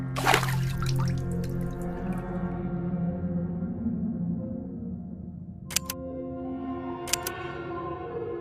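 Water drips in the Dracula 5 adventure game: a few sharp, isolated drops fall over a steady low ambient hum, with no voices.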